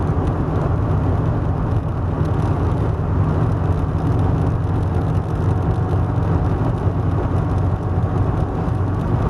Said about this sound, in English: We're cruising at about 70 now, and cars just loafing, smooth and quiet.